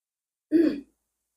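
A single short throat clearing, close and fairly loud, lasting under half a second, with silence before and after.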